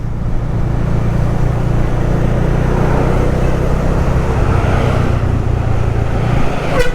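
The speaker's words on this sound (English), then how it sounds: "So this is the Colombo traffic here in Colombo 2." Busy street traffic in Colombo 2, Sri Lanka, a steady dense roar of cars, motorbikes and buses passing close by, continuous throughout with a brief higher whine near the end.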